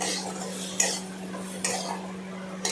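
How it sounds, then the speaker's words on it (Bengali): Potatoes being tossed with spices in a pan for ghugni, with a faint low hum underneath and a few sharp metal spoon scrapes and clinks against the pan. "নাড়াচাড়া করলাম যাতে মশলাগুলো আলুর মধ্যে ঢুকতে পারে"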